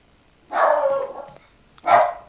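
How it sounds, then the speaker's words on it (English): A dog barks nearby, two loud, separate barks spaced about a second apart over a quiet background, the first bark longer and trailing off. "my dog is going mental."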